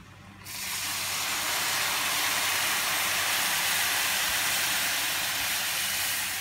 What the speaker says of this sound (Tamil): நம்ம வச்சுருக்கிற புளித்தண்ணியை எடுத்து இதில் சேர்த்தோம்.